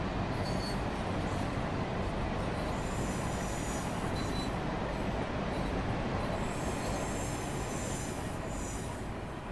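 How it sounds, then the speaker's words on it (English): An Amtrak passenger train runs steadily in Train Simulator Classic, a continuous loud rumble of rolling wheels with faint high squeal along the rails, no voices. "I love this Amtrak's train though."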